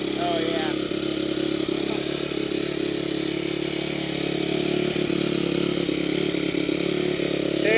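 Honda CRF 250R dirt bike just after a rebuild, its engine running steadily at high revs with a continuous buzzing drone and light mechanical clatter throughout.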